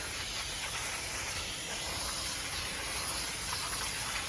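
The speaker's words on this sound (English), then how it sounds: "I'm gonna spray this entire drum brake and get all the dust off" Brake cleaner sprays from an aerosol can onto a car's dusty drum brake in one long, steady, close hiss.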